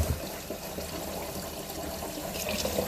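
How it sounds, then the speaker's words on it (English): Hot water runs steadily from a kitchen tap, filling a pot for washing ribs, a continuous close rushing wash with no speech. "So I'm just running the water, some hot water."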